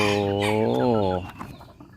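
Free-range bantam chickens cluck and call outdoors in the evening, a loud drawn-out vocal cry followed by shorter clucks and scuffling.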